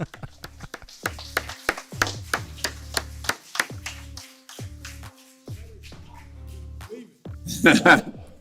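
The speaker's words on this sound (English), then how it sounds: "can we quit clapping or what?" A small audience at a live labor union event in Washington DC claps in sparse, uneven bursts that come up close and then trail off, with a person talking near the end.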